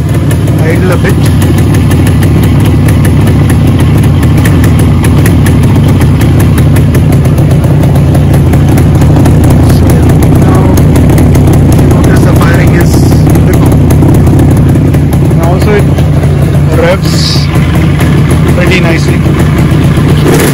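A Yamaha RD two-stroke motorcycle engine idles steadily after a carburetor adjustment, a loud continuous low rumble close by with brief faint background sounds over it.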